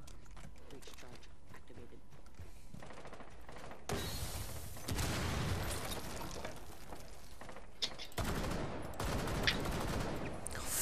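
Rapid gunfire bursts in Rainbow Six Siege, including automatic fire and close sharp shots with mechanical clatter, some bursts loud and dense. Talk can be heard at times.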